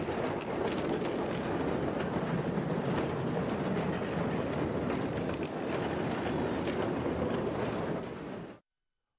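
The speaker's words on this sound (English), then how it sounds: "Local excursion trains like the Blue Goose in Wairika, California, offer a fun ride." An excursion tourist train rolls along steadily, a continuous rumble with rail clatter and wind buffeting the microphone, heard up close from on board until it cuts off abruptly near the end.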